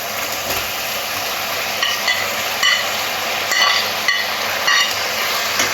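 Chicken pieces go into a hot pan with vegetables and cornflour water for Chicken Manchurian, giving a steady, close frying sizzle and hiss with a few stirring scrapes throughout.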